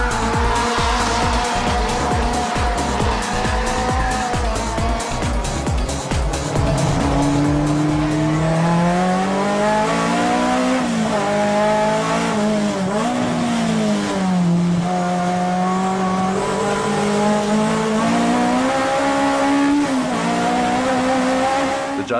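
A drift car at Nakayama Circuit squeals its tires continuously under a loud, revving engine, the whine rising and falling as the car slides around the course.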